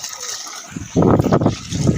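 Water gushes from a pipe fed by a motor pump into a spot where village cattle drink, starting softly and then rising into a loud, steady splashing flow nearby.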